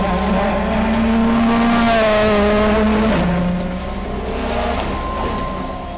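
A Ford Fiesta WRC rally car driven fast on a winding mountain stage of the 2013 Rallye d'Antibes screams loudly up through the gears, with a sharp shift and rising engine note close by and no speech.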